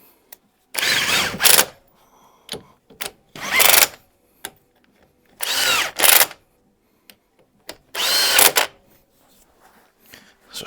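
Four short, loud whirring bursts of an impact gun snugging up bolts during a 1959 Reliant Regal Mk V restoration, separated by pauses with small clicks and clinks.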